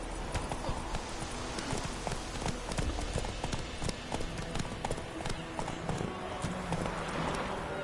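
Horse hooves galloping in The Witcher 3, a fast, steady clip-clop that carries all the way through, with a rider's short voice calls over it.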